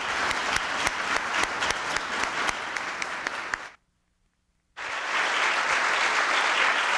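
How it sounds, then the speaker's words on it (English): An audience claps steadily for recipients at the Presidential Historic Preservation Awards, a dense, even applause that cuts out briefly and then resumes just as full. "A final round of applause, if you will, for all the recipients."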